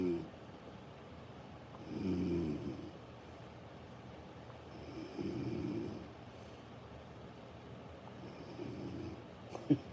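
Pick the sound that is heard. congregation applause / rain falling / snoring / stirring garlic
snoring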